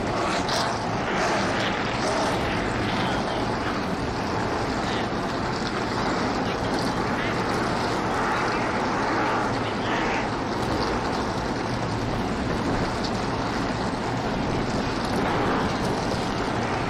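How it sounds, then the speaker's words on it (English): Race car engines in a sim racing game at a Kentucky Speedway event, a dense continuous roar of many motors idling and revving together at steady loudness, with commentary heard faintly underneath. "it's time to start your engines."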